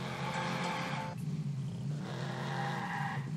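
A car in Watch Dogs drives off-road, its steady engine hum running throughout with gritty tire scrubbing and skidding noise rising and falling over a few seconds.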